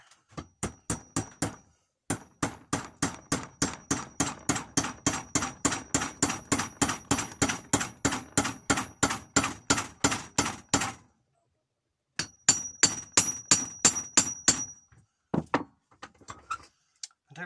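Metal hammer strikes drive a wedge into a new wooden hammer handle, a long run of sharp, evenly paced ringing blows up close, a brief pause, then another burst and a few final taps.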